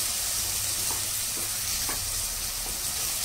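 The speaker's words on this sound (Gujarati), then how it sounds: "હવે તેની અંદર લીલી ડુંગળી નાખી દઈશું અને લીલું લસણ પણ નાખી દઈશું. બંને થોડુંક શેકી લઈએ." Chopped green onion and green garlic sauté in a pan for Gujarati sev usal with green peas, a steady soft sizzle with a few faint scrapes of stirring, close by.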